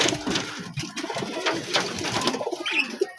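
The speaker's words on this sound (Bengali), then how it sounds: "এই যে সিঙ্গেল মাদি পায়রা" A single female pigeon kept with young squabs coos softly in a loft, low murmuring calls repeating through the stretch with light rustling and background noise, no talk.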